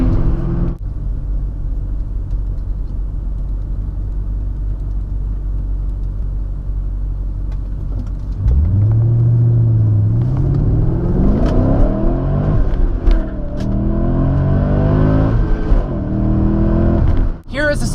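Manual-transmission car engine pushed past its red line, a steady low rumble that surges about halfway through into a loud, rising over-rev with climbing harmonics, then cuts off near the end.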